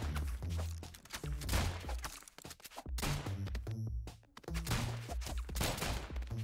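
Rapid bursts of gunfire in a video game duel, clustered volleys of shots with brief gaps between them, dense and punchy at moderate loudness with no talk.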